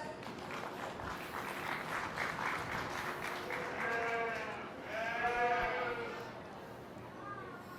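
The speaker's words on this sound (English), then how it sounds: "let's give these young ladies a great round of applause" A crowd claps steadily at a 2019 sheep show, the applause running under loud, repeated sheep bleats, with voices talking in the background.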